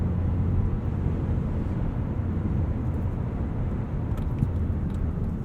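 Steady road and engine noise from a 2019 Mazda3 Hatchback AWD with automatic transmission, heard from inside as it drives through corners, an even wideband rumble with no talk.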